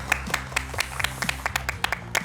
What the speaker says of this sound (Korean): 서로에게도 박수를 좀 보내주실까요?